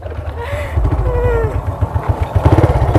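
An old, battered motorcycle engine runs close by with a rough, throbbing, uneven pulse that grows louder and choppier near the end.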